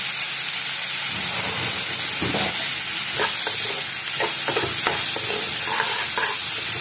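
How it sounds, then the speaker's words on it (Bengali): Ingredients fry in a pan over a lowered gas flame for an egg and cauliflower pulao, a constant sizzling hiss broken by a series of scraping stirring strokes near the end. "সব একসাথে নাড়াচাড়া করতে, গ্যাসের ফ্লেমটাকে একটু কমিয়ে রাখতে হবে যাতে পুড়ে না যায়"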